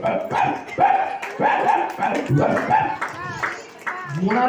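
A voice mimics a dog barking in a mimicry act, giving a run of loud, close barks and yelps in uneven bursts with whimpering rises between them.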